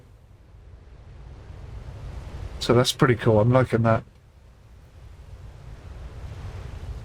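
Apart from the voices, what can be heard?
ocean waves hitting the ship in the video game Ships at Sea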